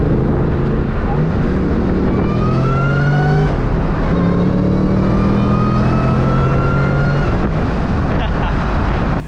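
A Terminator Cobra with a DSG gearbox accelerates hard, its engine note climbing through gears in rising sweeps under loud wind buffeting, with people talking over it from inside the car.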